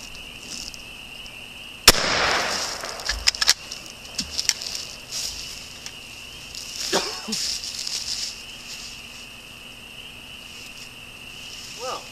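A single sharp gunshot from a 20 gauge shotgun or .22LR rifle, fired outdoors at a Seagate hard drive, cracks loud and close, then dies into insect-like ambient buzz with a few faint knocks and brief sounds afterward.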